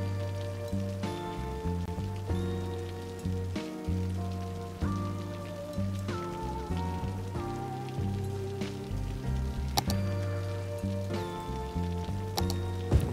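Steady rainfall in the city-building game Cities Skylines, a soft continuous patter heard beneath tonal background music with repeating, decaying notes.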